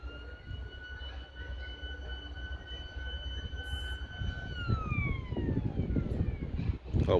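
A train passes a level crossing in Cape Town, its rumble building beneath a sustained horn whose pitch drops as it goes by, with rail noise growing louder toward the end.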